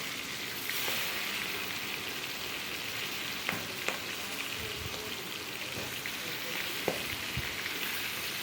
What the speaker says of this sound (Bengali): উল্টে পাল্টে নেড়ে চেড়ে কিন্তু আমরা ভেজে নেব।